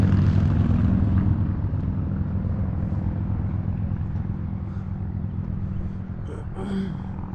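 A steady engine drone rumbles throughout as a couple of motorcycles climb a road across the valley from a Sequatchie Valley overlook in Tennessee, fading slightly toward the end with faint chirps near the close.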